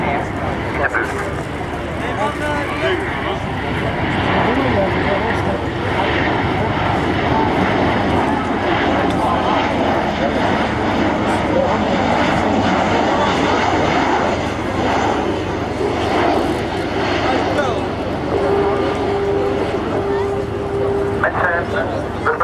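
Aircraft engine drone from an airplane flying a display at an air show, a loud sustained roar throughout with a Dutch-speaking commentator talking over it.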